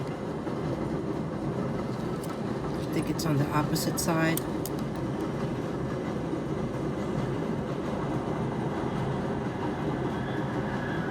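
A train rolls past steadily for the whole stretch with a constant rumble and a brief squeal of wheels near the middle, while a person speaks briefly over it.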